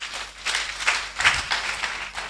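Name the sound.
church congregation applauding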